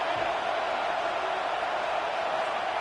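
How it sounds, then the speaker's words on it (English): A stadium crowd at a college football game roars in a dense, steady wash of cheering that fills the whole stretch, loud and continuous without clear individual voices. "Listen to the crowd energy here in the early going."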